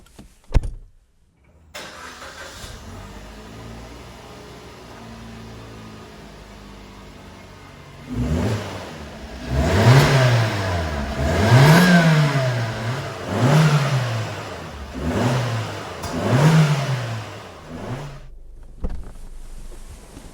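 A Suzuki Swift Sport hatchback engine starts, then revs repeatedly in several rising and falling bursts, loud and close, with a raspy exhaust note.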